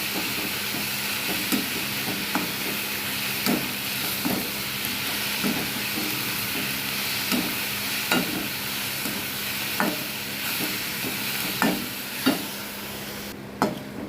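Tomato and mint leaves sautéing in a pan for chutney, giving a steady loud sizzle and hiss broken by regular scraping stir strokes roughly every second, close up with no voices.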